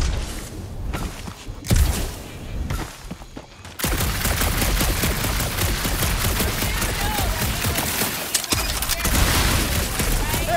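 Gunfire from the video game Marvel's Guardians of the Galaxy on PS5: a dense, sustained barrage of blasts and thuds that sets in after a few scattered shots, continuing loudly to the end over a constant background din.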